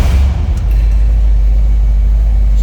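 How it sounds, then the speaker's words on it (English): A 1965 Ford Thunderbird V8 catches and settles into a loud, steady idle, a deep continuous rumble heard close up with no talking. "Let's go ahead and fire it up,"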